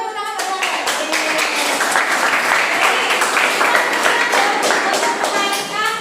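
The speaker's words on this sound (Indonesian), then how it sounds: "beri tepuk tangan buat Farel." Students in a classroom break into a round of clapping, a dense, steady burst of many hands with some voices mixed in, close and fairly loud.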